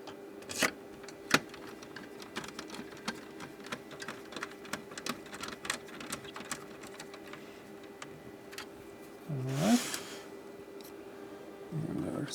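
Small screws are driven in to hold an analog PCB inside a Keithley 2425 SMU, faint ticking and clicking under a steady electronic hum, followed by a louder whirring burst near the end.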